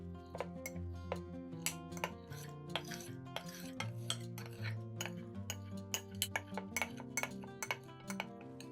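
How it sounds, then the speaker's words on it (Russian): A knife on a board cuts set jelly into small cubes: a string of sharp, quiet taps and clinks in an irregular rhythm, close by, with no speech. "Застывшее желе нарезаем на небольшие кубики."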